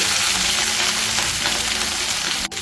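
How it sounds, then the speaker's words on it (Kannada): Chopped onion with red and green capsicum fries on a gas stove over high flame, a steady loud sizzle and crackle heard up close. "ನಾವು ಗ್ಯಾಸನ್ನು ಹೈ ಫ್ಲೇಮಲ್ಲಿ ಇಟ್ಬಿಟ್ಟು ಫ್ರೈ ಮಾಡ್ಕೋಬೇಕು."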